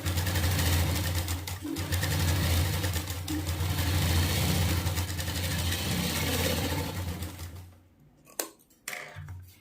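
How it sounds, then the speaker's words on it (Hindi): A sewing machine runs continuously, stitching a straight seam on cloth with a steady mechanical whir, then stops near the end, followed by a few brief clicks and handling sounds. "तो हम इस पे सीधी सिलाई लगाएंगे"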